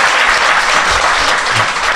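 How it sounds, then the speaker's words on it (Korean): An audience at a live Korean talk show bursts into loud, full applause, a close, dense clatter of many clapping hands that runs unbroken throughout, with no speech. "박수 한번 부탁드립니다"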